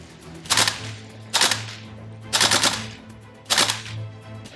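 An AK-style airsoft BB gun fires full-auto in four sharp, loud bursts, each a rapid rattling string of shots separated by short pauses, close by with a faint background hum.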